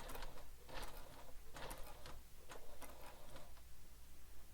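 A sewing machine stitching a fabric bowler bag gives off a quiet, steady run of soft mechanical ticks and clicks in short rhythmic bursts, with no talking.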